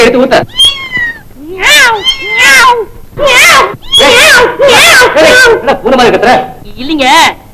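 A person mimics a cat's meows to scare off rats, a run of loud drawn-out yowling calls in quick succession with short pauses between.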